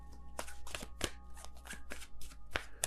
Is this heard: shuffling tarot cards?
yes